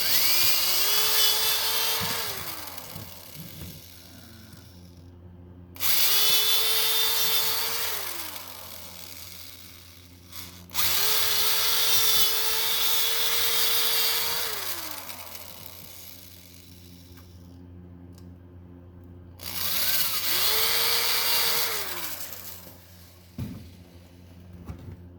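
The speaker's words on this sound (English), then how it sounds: "I'll take a drill, make sure it's the right size of the rivet as well." A power drill drilling out rivets in metal runs in four separate bursts of several seconds each, motor whining up and winding down, with quiet gaps and clatter between.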